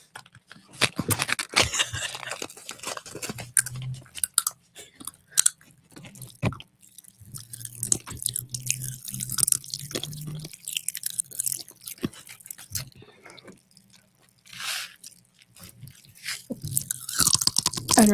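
Close-up crunching and chewing of a paleta candy, irregular bites and mouth noises with brief pauses, loud and near.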